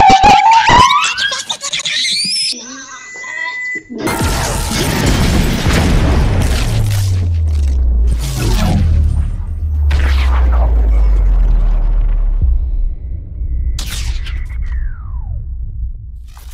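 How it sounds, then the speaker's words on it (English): A booming cartoon-style explosion rumbles loudly, followed by sustained roaring, crackling and whooshing effects that slowly fade. "I'm sure no one noticed that giant blue explosion, right?"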